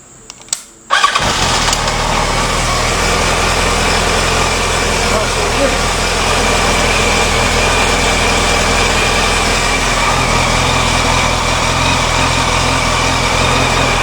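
A motorcycle engine cranks and fires after a new starter relay is fitted, then settles into a steady, close idle that runs on continuously and fairly loudly.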